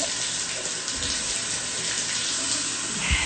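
A strong shower spray in a home bathroom, a steady dense hiss of rushing water running continuously and close for a few seconds, with no talking.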